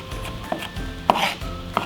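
A knife rough-chops an onion on a cutting board in a kitchen, with a few close, irregular chopping strikes and soft scrapes over a quiet background, and no talking.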